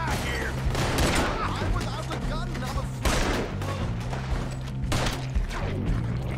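Repeated gunshots from Red Dead Redemption 2 crack out as irregular bursts, a fusillade of sharp broadband blasts over a thick, steady low rumble of score and ambience, loud and close throughout.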